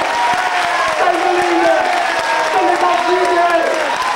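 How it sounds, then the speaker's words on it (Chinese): An audience at a humorous speech contest claps in a dense, sustained burst, with voices rising over the applause throughout. "鼓掌。"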